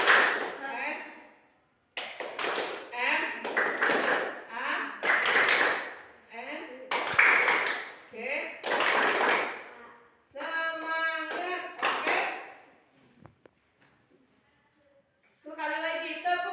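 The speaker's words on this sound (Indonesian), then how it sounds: "Sekali lagi, tepuk semangat, yang semangat, tepuk semangat" A group does the tepuk semangat spirit clap, rhythmic rounds of loud, close claps and slaps in quick patterned bursts, with chanting and voices between rounds.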